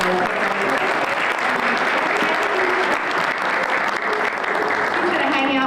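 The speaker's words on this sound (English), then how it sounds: "Let's give a round of applause to Melissa" A room full of people gives a round of applause for Melissa at a meeting, dense continuous clapping at a loud even level with some voices mixed in, lasting several seconds.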